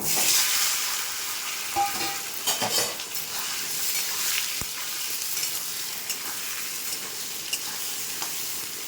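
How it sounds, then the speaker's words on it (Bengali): Potato and pointed gourd pieces fry in oil in a pan, a continuous loud sizzle with spatula scrapes and light clinks of a utensil against the pan, and no voices. "আলু আর পটলটা একটু ভেজে নেব"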